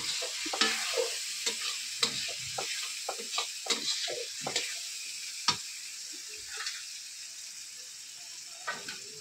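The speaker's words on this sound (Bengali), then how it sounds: "তারপরে লঙ্কা হলুদটাকে আস্তে আস্তে কষিয়ে নিতে হবে।" Chili and turmeric paste is stir-fried slowly in a pan, a gentle sizzle under frequent scraping and tapping strokes of a spatula, busier at first and sparser later.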